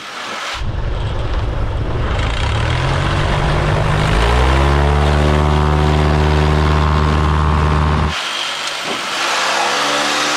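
Airplane engine in a video game air race: a loud, sustained propeller drone that starts abruptly, rises in pitch as it revs up around midway, holds steady, then cuts off sharply near the end.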